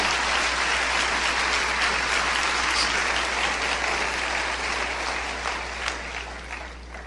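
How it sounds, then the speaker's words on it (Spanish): A church congregation applauds loudly during a Spanish-language sermon, a dense sustained wash of clapping that holds steady and then tapers slightly toward the end, with a low hum underneath. "Si va a aplaudir, aplaude fuerte."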